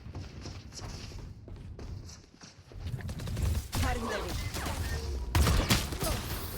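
Rapid bursts of Valorant gunfire crack through a video game match, with sharp repeated shots and thuds growing louder in the second half while a voice talks over the action.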